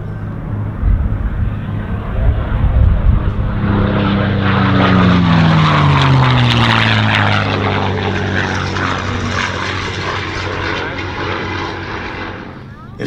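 Four propeller-driven warbirds fly over together in echelon at an airshow, a loud, swelling engine drone that builds, peaks overhead with a sweeping pitch shift, then fades away, with people talking faintly underneath.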